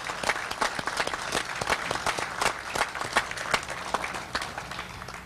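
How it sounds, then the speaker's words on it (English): Crowd applause at a Los Angeles County highway dedication ceremony, many people clapping outdoors with distinct sharp claps over a continuous patter, moderately loud and steady throughout. "I think we all owe him another round of applause"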